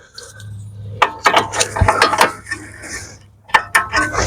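A tool works on a fastener of a BMW E92 3 Series front suspension part, giving close metallic ratcheting clicks and clanks in two bursts over a low hum.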